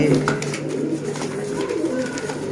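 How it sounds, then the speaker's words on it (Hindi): Sialkoti pigeons cooing close by, several soft low coos repeating over a background of voices talking in the room. "है ने दोस्तों सियालकोटी 35 वाले कबूतर माशाल्लाह जी।"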